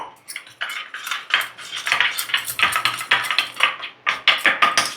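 A metal spoon mixes maida flour paste with water in a small bowl, producing rapid, rhythmic clinks and scrapes against the dish. The sound is close and bright and repeats steadily without speech.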